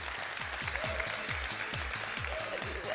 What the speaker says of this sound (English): Give yourself a round of applause, in-studio audience.